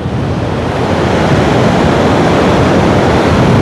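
Stormy Black Sea surf pounding the beach at Anapa, Dzhemete: a loud, continuous broadband roar of crashing waves with wind, steady and close, no voices.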